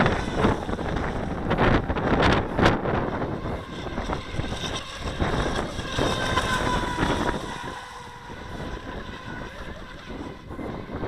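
A Feilun FT011 brushless RC speedboat skims across water, its high motor buzz mixed with splashing and heavy wind buffeting on the mic, fading somewhat as the boat moves off.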